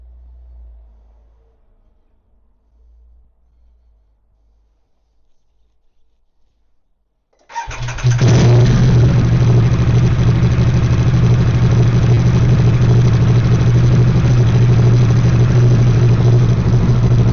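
A Harley motorcycle with a modified, ruined exhaust starts after a few seconds of near silence, catching abruptly into a loud, steady, throaty idle that stays close and unbroken to the end.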